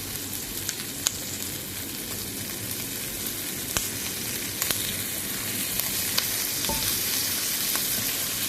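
Garlic frying in a hot pan for chicken menudo, a loud, dense, crackling sizzle that holds steady throughout, dotted with sharp pops and a few utensil clicks.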